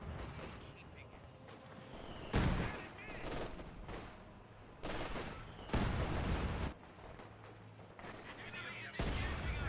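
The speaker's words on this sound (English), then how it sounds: "Ooh, what a nasty mortar around there." Mortar and gunfire boom through a Company of Heroes match. Several heavy, separate blasts land a few seconds apart over a steady din of battle, and a commentator's voice sits low beneath the explosions.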